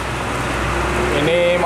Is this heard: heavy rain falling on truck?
yes